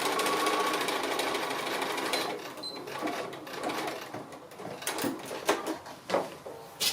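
A sewing machine stitches close along the edge of a table napkin, first in a steady continuous run, then slowing into separate rattling bursts and pauses as the fabric is guided.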